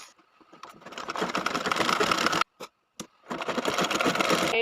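A sewing machine stitches a small hem on fabric for a handmade dress for Vitthal and Rukmini idols, running in close, loud, steady bursts with two brief stops near the middle.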